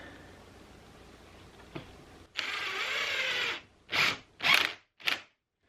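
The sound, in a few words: screws being driven in to mount French cleats on wall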